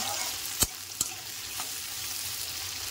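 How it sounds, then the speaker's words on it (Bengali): Potatoes fry in oil left over from frying vegetables, a continuous bright sizzle broken by two sharp utensil clicks and a fainter tap. "আমি সবজি ভেজেছিলাম সেই তেলেতে আলুগুলোকেও ভালো করে ভেজে নেব"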